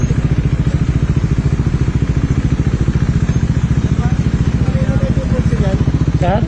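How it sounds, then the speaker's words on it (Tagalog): A motorcycle engine runs at a steady, loud, rapid putter through its exhaust, with a slight rise in revs toward the end. "Yan ba yung tambutso niyan?"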